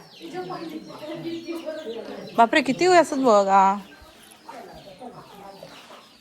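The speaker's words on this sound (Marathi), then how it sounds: "कोंबडी बघा काय" A chicken clucks loudly in a quick burst of squawks in the middle, between stretches of someone talking nearby, at a home in Konkan in hot weather.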